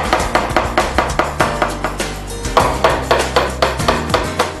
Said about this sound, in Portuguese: A gente vai pregar nesse sentido aqui.